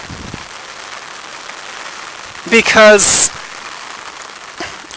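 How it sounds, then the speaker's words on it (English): Steady rain falls throughout, a continuous close hiss of drops on surfaces, with a brief burst of speech partway through. "It's raining now."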